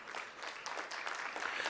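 Scattered hand clapping from a small audience at a Hindu religious discourse on Ekadashi fasting, steady and moderately close, lasting under two seconds with no voices over it.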